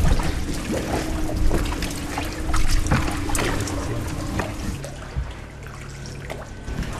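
A 10-metre gondola rowed through a narrow Venice canal, steady lapping and trickling water with a continuous low rumble, fairly loud and without voices.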